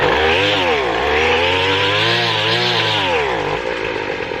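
A chainsaw engine runs steadily and loudly up close, its revving pitch rising and falling in waves throughout.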